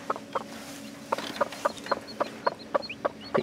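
A broody game hen clucks near her chicks in a steady series of short, close clucks, roughly two or three per second, with faint chick peeps above them.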